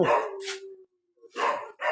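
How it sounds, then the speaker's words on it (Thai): A dog barks loudly and close by, in two separate bursts split by a short quiet gap. "โอ้หมาเห่า"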